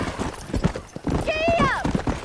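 Hooves clip-clop on a horse ridden in Red Dead Redemption, mixed with voices and a short whinny-like rising tone, all fairly loud and close.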